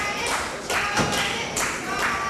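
Wrestling fans at a GCW show cheer and clap loudly, with a dense crowd wash and a few sharp bursts of applause building and fading across the moment.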